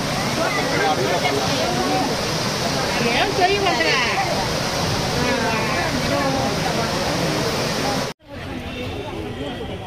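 Steady, loud rush of falling water at Kapila Theertham waterfall in Tirupati fills nearly the whole stretch, with voices murmuring underneath, then it drops abruptly to a quieter roar near the end.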